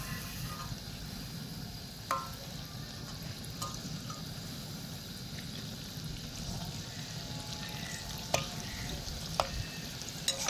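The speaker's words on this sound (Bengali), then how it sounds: "এবার আমি এগুলোকে উল্টে পাল্টে ভেজে নেব।" Flattened-rice pakoras fry in a pan of oil over low heat as they are turned, giving a steady soft sizzle broken by occasional sharp clinks of the utensil against the pan.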